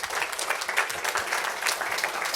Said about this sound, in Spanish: Denle el mejor aplauso al Rey de Reyes.